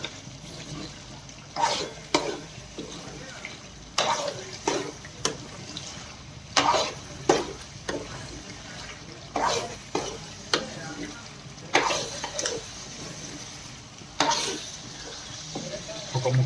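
Chicken curry sizzles in a pan while a spoon stirs it in repeated scraping strokes, about a dozen bursts at an uneven rhythm over a soft, steady frying hiss, close and moderately loud.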